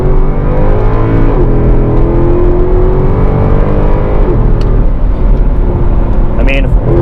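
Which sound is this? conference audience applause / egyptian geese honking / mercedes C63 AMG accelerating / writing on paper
mercedes C63 AMG accelerating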